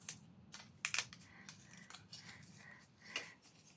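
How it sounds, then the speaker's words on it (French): Scissors snipping paper die-cuts free from their sheet, a few quick close crisp cuts mixed with light paper rustling, quiet and without talk. "Il faut donner un petit coup de ciseau."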